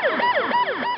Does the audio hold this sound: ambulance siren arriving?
yes